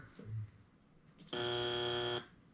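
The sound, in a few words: game show wrong-answer buzzer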